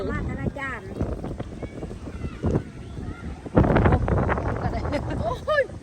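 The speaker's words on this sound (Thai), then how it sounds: "มันลม" Wind buffets the microphone outdoors on the way to a rural celebration, a gusty rumble that swells and eases beneath people talking, growing heavier toward the end.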